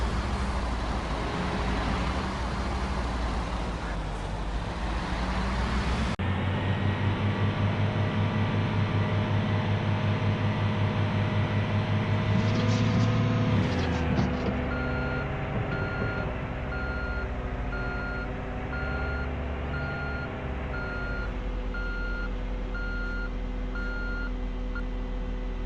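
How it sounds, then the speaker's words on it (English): Wheel loader hauling a half pipe tipper on a construction site in Construction Simulator 3, a steady diesel engine drone with a gear shift midway, then repeated reversing beeps over the idling engine. "we're going to be bringing in the half pipe tipper with one of the wheel loaders"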